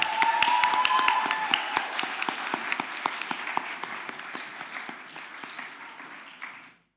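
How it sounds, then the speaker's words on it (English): An audience at a symposium in Athens, Greece, applauding a band, many hands clapping steadily near the listener, thinning out and fading to silence near the end. "give the band another round of applause because that was so good"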